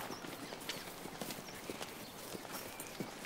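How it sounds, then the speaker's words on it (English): A dressed-up horse's hooves clip-clop at a steady walking pace, faint and somewhat distant over a noisy outdoor background, with no talk. "Hey, Bud, is this the best dressed horse in the district or what?"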